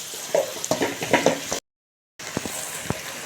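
Vegetables with ginger-garlic paste sizzle and crackle in a hot pan, with soft stirring scrapes in short bursts and a brief gap of silence partway through.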